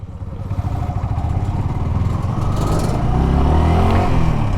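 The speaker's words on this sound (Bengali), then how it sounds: "এতক্ষণ বাইকটা রাইড করতেছিলাম" A motorcycle ridden along a road gives a loud, continuous close-up engine drone with a rapid, pulsing chug that builds slightly and holds steady, with no voices.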